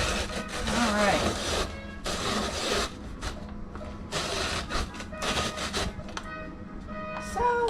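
A hand grater shreds raw carrots in bursts of loud, scratchy rasping, close to the listener and separated by brief pauses, with some clattering between strokes.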